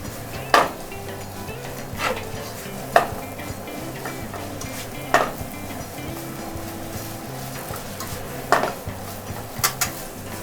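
Napolitan spaghetti with ketchup tossed in a metal frying pan, a soft constant sizzle broken by sharp scraping clanks of the pan and utensil every couple of seconds, close and without talk.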